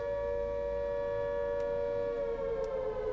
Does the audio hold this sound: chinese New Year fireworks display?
no